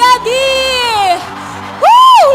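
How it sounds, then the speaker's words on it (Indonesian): University students at UPN Veteran Jakarta welcome Governor Dedi Mulyadi with loud, close whoops and drawn-out cheering shouts, two long bursts separated by a brief lull. "Boleh teman-teman kita berikan tepuk tangan untuk"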